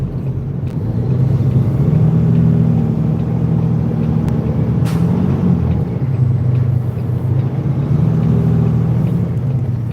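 A car engine hums low and steady with constant road rumble while driving through light weekend traffic, the drone continuous and fairly loud throughout with no voices.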